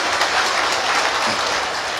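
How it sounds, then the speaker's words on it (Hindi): A crowd at a bhajan satsang claps loudly and steadily, a dense sustained wash of applause with no voices over it. "एक बार जोरदार तालियां बजाओ बहन नीताजी के वास्ते।"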